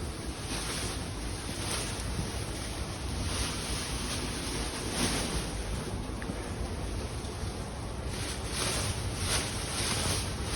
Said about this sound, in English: So that's the type of natural airflow that comes into my shed.